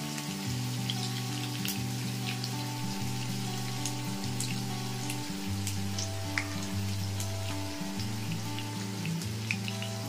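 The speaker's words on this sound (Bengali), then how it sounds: "অনিয়নগুলো দিয়ে দিলাম। একদম স্লাইস অনিয়ন হবে, তাহলে সুন্দর ভাজা ভাজা হবে।" Sliced onions fry in a hot pan with a steady, even sizzle and crackle, heard alone beneath soft background music.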